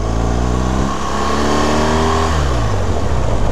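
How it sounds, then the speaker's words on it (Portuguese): A BMW 1200 motorcycle engine revving loudly up close, a strong harmonic drone that climbs and holds as the throttle is opened, with no talk over it. "Ela quer acelerar a moto, mano."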